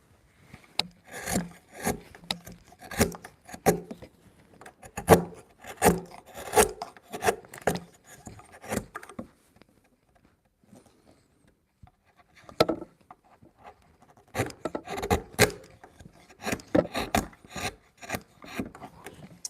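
A hand chisel works through wood in repeated scraping, rasping strokes, close and fairly loud, coming in two clusters separated by a quiet pause in a workshop.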